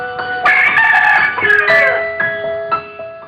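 A fighting rooster crows loudly and close by in a single long, wavering cock-a-doodle-doo lasting a few seconds, with no other sound around it.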